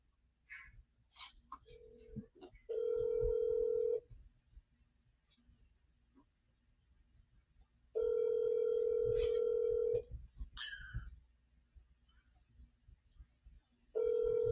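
A US phone ringback tone after voice-assistant dialing, repeating in long steady buzzes about two seconds on and four seconds off, three rings, with faint room clicks between.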